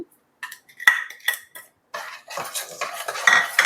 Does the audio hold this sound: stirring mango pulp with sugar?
yes